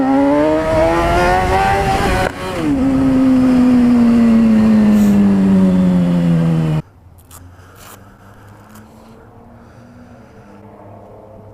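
A motorcycle revs and pulls away from a gas station, the engine note rising then falling steadily as it accelerates, loud and close before cutting to quieter wind and road noise.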